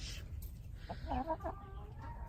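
Barred Rock hens in a backyard flock give a few soft clucks and short murmuring calls over a low outdoor rumble, close but quiet and brief.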